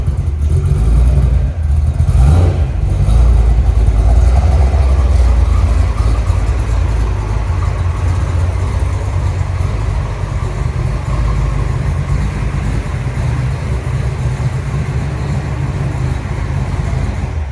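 A 1965 Corvette with an LS3 engine runs hard on a dyno, a loud sustained low roar that swells slightly early on and then holds steady throughout.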